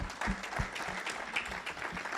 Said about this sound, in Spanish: ¿cuánto podemos darle un aplauso y glorificarlo?